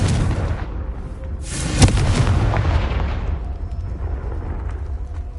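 In Hogwarts Legacy on PS5, a Confringo blasting spell explodes with a loud, sharp burst, then a long rumbling roar that slowly fades.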